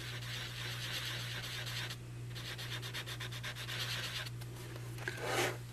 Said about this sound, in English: I'm gonna get some sandpaper. And I am gonna sand this just a little bit.